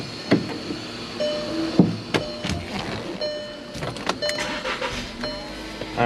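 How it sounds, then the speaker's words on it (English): A VW Jetta is started after an AC compressor replacement: a series of sharp clicks and thumps with faint electronic tones, then a low engine rumble settling in, heard up close with no talking. "We're gonna go ahead and start the vehicle."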